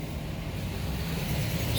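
A vehicle on a Philadelphia street rolls past with a low engine rumble and a steady road roar that builds slightly, heard close by with no talking.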